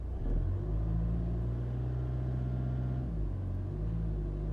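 A VW TDI diesel with a DSG gearbox rumbles low and steady, held at raised revs with the brake on and the pedal pressed, a deep droning hum with only a slight shift in pitch partway through.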